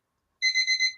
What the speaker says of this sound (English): I thought that was my alarm.